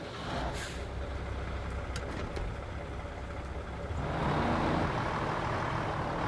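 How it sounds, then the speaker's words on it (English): A truck in SnowRunner idles with a low, steady rumble, then a louder, fuller engine roar comes in about two-thirds of the way through, close and continuous with a few short hissing bursts early on. "Start the engine."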